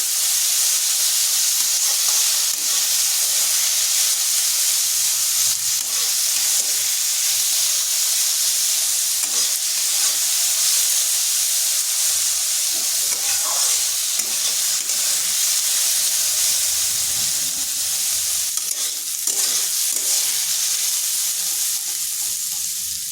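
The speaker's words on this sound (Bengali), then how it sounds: "আলু আর গাজরটা" Potato and carrot sticks fry lightly in hot oil in a kadai, a constant close sizzle and hiss broken by scraping stirring strokes throughout, with no voices.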